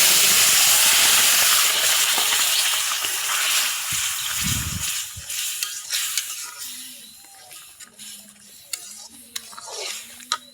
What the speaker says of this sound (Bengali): এখন কুমড়োটা তেলে দিব